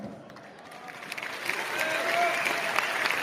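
Audience applause at a Delhi stage event, a broad, steady wash of clapping that swells and grows louder partway through, with faint voices mixed in.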